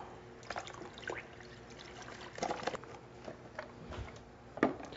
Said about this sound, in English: Then we're going to add another quart of beef stock.